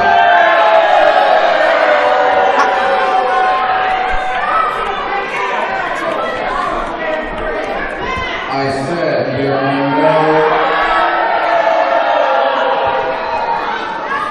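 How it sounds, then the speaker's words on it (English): A large crowd at a wrestling event roars and cheers loudly and continuously, with chatter and whoops throughout while a voice speaks over the noise. "This crowd letting him know the love"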